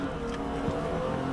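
A car engine revs in a short burst at moderate distance, a steady low mechanical roar with a slight rise, quiet overall and with no talk.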